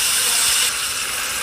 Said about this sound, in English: Just take it onto the hot grill and let that sizzle begin.